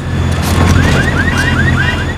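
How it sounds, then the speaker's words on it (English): A cartoon hovercraft in Peppa Pig arrives with a steady low mechanical drone and a run of repeated rising whooping tones, loud and continuous. "here is Grampy Rabbit on his hovercraft."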